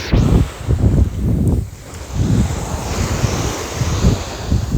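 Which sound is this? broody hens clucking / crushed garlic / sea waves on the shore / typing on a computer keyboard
sea waves on the shore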